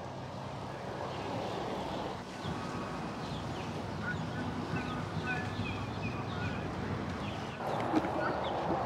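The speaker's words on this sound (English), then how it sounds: "I hear a guinea hen." A guinea hen calls near goats at an outdoor Native American pow wow festival, repeated harsh squawks over a steady background hum and crowd murmur.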